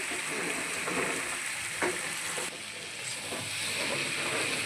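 Garlic paste and Bombay duck fish being mixed as they fry in a pan, a loud close continuous sizzle with rough stirring scrapes running through it, no voices.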